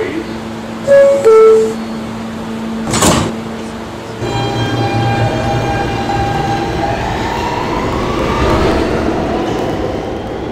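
A New York subway B train (R160 cars) at 68th Street station, with a chime and a brief announcement tone before a steady rumble of the train running through the platform.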